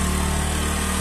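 A Bajaj Boxer 150 motorcycle engine runs steadily right after an electric start, a loud, close, even drone with no pauses or voices.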